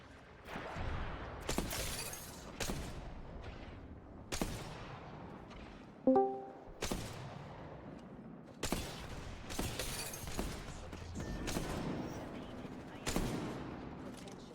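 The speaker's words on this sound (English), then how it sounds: "Second squad is firing at us." Enemy squad gunfire in a video game, heard as repeated sharp bursts and single shots spaced through the stretch, fairly close and loud, with faint voices underneath.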